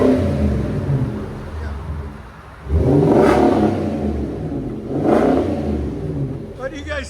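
A 2023 Infiniti QX80 5.6-litre V8 with Flowmaster Super 10 dual exhaust idles with a deep burble, then revs hard twice, rising and falling each time, close by.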